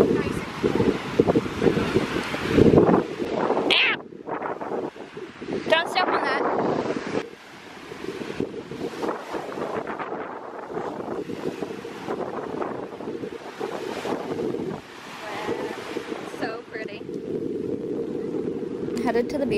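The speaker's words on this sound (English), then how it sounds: "I don't even know if they can hear because it's windy" Heavy wind buffeting a microphone in loud, rumbling gusts near a beach on Culebra, Puerto Rico, with surf-like roar underneath and brief lulls throughout.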